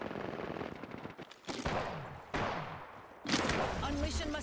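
Gunfire in Apex Legends during a PC custom match, a few sharp bursts separated by short pauses, heard under steady talking from a player.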